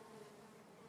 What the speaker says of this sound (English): these bees are just like crazy out here